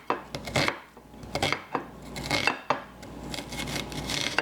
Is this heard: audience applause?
no